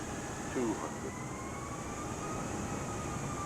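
Steady engine drone of an airplane coming in to land in a flight simulator game on a Dhaka to Cox's Bazar route in Bangladesh, a continuous hum with faint rising tones, with a brief voice in the background.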